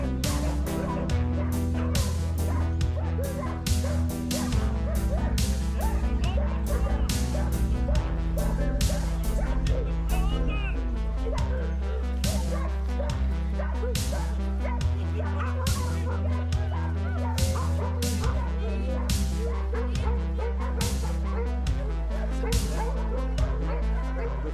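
Mushing sled dogs in Alsace bark and yip repeatedly over a long stretch, mixed with a steady rhythmic musical backdrop.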